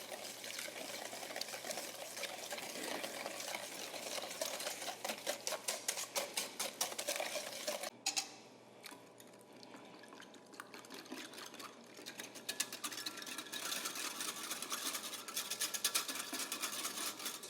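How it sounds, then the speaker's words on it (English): Batter mixed with melted chocolate is whisked in a bowl, a rapid continuous clicking and swishing that pauses briefly midway, then resumes, close and steady. "I think we can just use a whisk."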